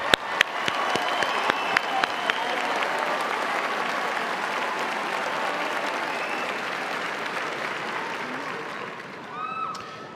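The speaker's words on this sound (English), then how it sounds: "please stand and receive our well-deserved applause." Ohio University spring commencement audience applauds graduating magna cum laude students, a large hall of steady, full applause building from a few sharp early claps and fading slightly near the end, with faint voices beneath.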